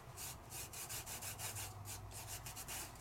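Black glitter is rubbed around by hand over a card in card making, giving a quiet, close, rhythmic scratchy rubbing with evenly repeating strokes.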